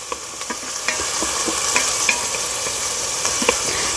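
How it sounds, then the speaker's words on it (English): Rice browning in a hot frying pan for Mexican rice, steady close sizzling with scattered scraping clicks of stirring, no talking. "I want to brown my rice up."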